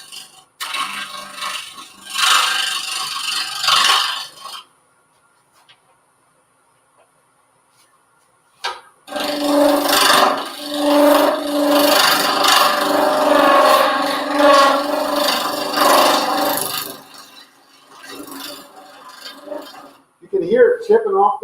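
A lathe tool scrapes and cuts a cast bowl in two long stretches of gritty, rasping turning noise, loud and close, separated by a silent pause, with a voice heard briefly at the end.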